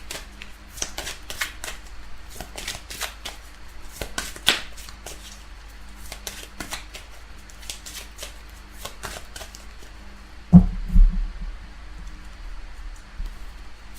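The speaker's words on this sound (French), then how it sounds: "Donc on va tirer quelques cartes dans cet oracle." Oracle cards being shuffled by hand close by, a series of quick riffling bursts with short pauses between them, followed by a couple of soft thumps near the end.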